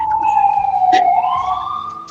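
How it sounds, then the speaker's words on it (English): An ambulance siren wails outside, a single loud gliding tone that dips and rises again as it passes, with little else around it. "It was an ambulance."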